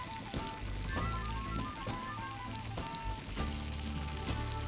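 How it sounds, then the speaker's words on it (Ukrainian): Tomatoes on the vine sizzling in hot butter in a frying pan beside liver, a steady close crackle and hiss with small popping bursts. "Вони одразу починають шкварчати, і це буде дуже апетитно."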